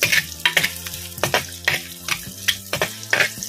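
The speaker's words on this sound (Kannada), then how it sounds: "ತುಪ್ಪದಲ್ಲಿ ನೀರುಳ್ಳಿ ಫ್ರೈ ಮಾಡುವಾಗ ಘಮನೇ ಒಂಥರ ಚೇಂಜ್ ಅಲ್ವಾ" Sliced onions sizzle and crackle in hot ghee, with repeated stirring scrapes and clinks of a utensil against the pan at close range.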